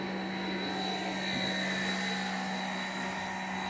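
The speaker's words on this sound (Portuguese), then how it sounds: "Um pouquinho de barulho, que ali é lava-jato." Steady broadband roar of machinery from a nearby car wash beside a house for sale, continuous and fairly loud with a constant hum, no talking over it.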